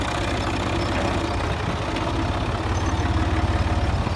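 A tractor engine idles nearby, a loud low rhythmic chug with evenly pulsing thumps that grow slightly stronger toward the end.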